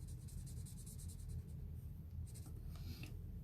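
A colored pencil scratches and strokes across a card surface in steady, close scraping bursts, with a few sharper rubbing passes near the end; no voices.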